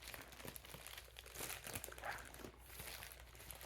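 A package ripped open close by, a busy run of crinkling, crumpling paper or plastic with sharp tearing bursts throughout and no talking.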